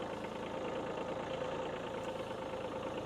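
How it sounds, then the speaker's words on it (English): A tractor fitted with a front bucket idles nearby, a steady low mechanical drone with a faint regular chug and no voices over it. "got the tractor here. I got a bucket on it"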